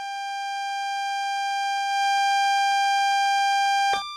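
AWS self-test alarm in a train cab in Train Sim World, a steady electronic warning tone that swells slightly, then changes pitch briefly and cuts off near the end.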